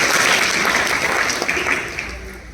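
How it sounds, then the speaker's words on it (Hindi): A crowd at a satsang gathering in Panipat claps in dense, steady applause that fades slightly toward the end. "तालियों से स्वागत।"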